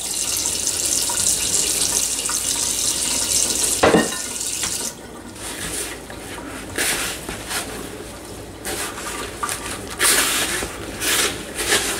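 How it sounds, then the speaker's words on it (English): Water runs from a tap while being added to sourdough biscuit dough for a cast iron Dutch oven, a continuous rushing stream with splashing, a sharp clatter near the middle and uneven bursts afterward. "Add just a little bit of water to that."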